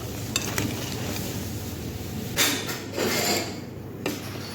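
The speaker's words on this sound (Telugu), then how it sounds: "పంచదార పాకం వేసి ఇలా కలుపుకోవాలి." Sugar syrup being stirred into a pot of fried Lebanese doughnut balls gives a steady wet, sticky swishing with a few light scrapes and clinks, close and continuous.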